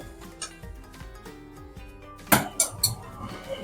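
A spoon stirring sweet modak filling spiced with cardamom and nutmeg in a pan: quiet background hum, then a short cluster of three or four sharp metallic clinks and scrapes close by.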